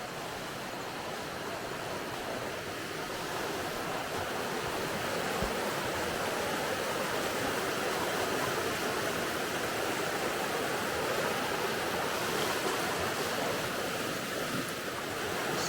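Omo River water in the upper Omo Valley, Ethiopia, rushing in a steady, broad wash of noise at early morning, loud and unbroken for the whole stretch with no voices.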